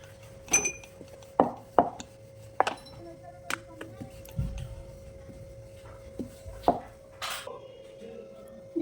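A rolling pin working a tomato paratha on a board gives a series of sharp wooden knocks and taps in an irregular rhythm, close and moderately loud, over a faint steady tone.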